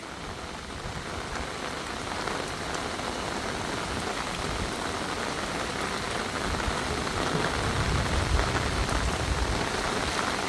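Steady rain falling outside a rural Thai home during a cool spell, a soft continuous hiss of drops on surfaces at moderate distance, gradually growing slightly heavier, with no voices.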